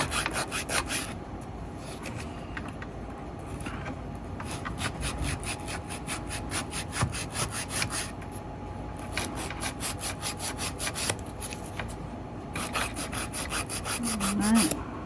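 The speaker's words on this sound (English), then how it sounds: "This is mainly just a shaping and filing situation. I use a 80/80 grit when I'm filing nail products" An 80/80 grit file rasps across artificial nail product in a long run of quick, close back-and-forth strokes, rhythmic and fairly quiet, with brief pauses between bursts.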